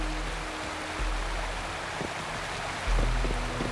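A waterfall rushes in the video game Wuthering Waves, a steady broadband hiss of falling water that swells slightly toward the end, heard alone without speech.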